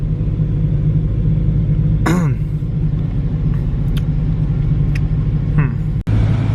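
Car with a full straight-pipe exhaust idling in a deep, steady rumble close by, with a brief cough-like voice sound partway through.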